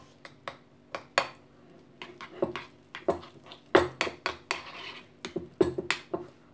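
A spoon mixes chestnut cream filling in a bowl for walnut cakes, making a string of sharp, close clinks and scrapes at an uneven rhythm, with no talking.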